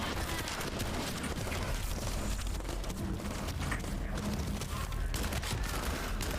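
Dense, continuous video-game gunfire rattles on without a break, a loud rolling barrage of overlapping shots and booms.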